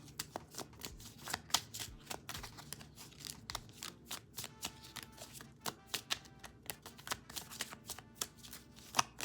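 Tarot card deck being shuffled by hand, a run of quick soft riffling snaps and taps at close range, irregular bursts with no talking.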